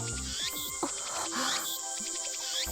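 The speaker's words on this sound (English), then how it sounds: "These cicadas are awful." Cicadas in the visual novel game Steins;Gate make a steady high-pitched buzzing drone that runs throughout beneath other shifting, sweeping game sounds, at a moderate level.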